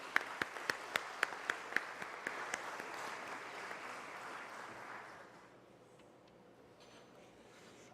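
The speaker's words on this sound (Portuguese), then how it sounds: "Uma salva de palmas." Applause at a formal legislative session honoring public advocacy, steady clapping that fades after about five seconds, leaving a quiet room.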